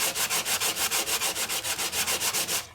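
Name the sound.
sanding gadget rubbing embossed film for alcohol ink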